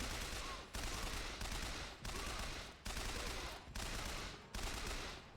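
Gunfire in the video game Bioshock Infinite, a dense run of rapid shots in repeated bursts of about a second each, loud and close, with no talk over it.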